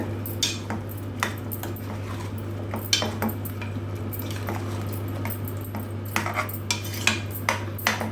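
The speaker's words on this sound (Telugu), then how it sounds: "ఇది బాగా మిక్స్ చేసుకోవాలి" Chili powder being stirred into chicken curry in a pot, heard as repeated metallic spoon scrapes and clinks against the pot over a steady low hum, with no talk.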